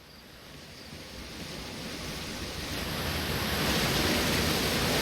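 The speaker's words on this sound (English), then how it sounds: "Let's go see if we can check out that waterfall." A waterfall in the Outer Wilds video game roars as a steady, broad rushing wash that grows gradually louder, with no talking over it.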